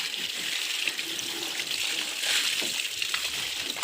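Borewell water splashes and sloshes as it is stirred, a close, continuous watery gush with small irregular slaps throughout.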